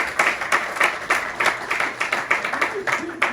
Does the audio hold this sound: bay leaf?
no